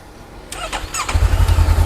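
A Honda CB500X motorcycle with a stock exhaust cranks and fires up, settling into a steady, throbbing idle with a deep rumble close by.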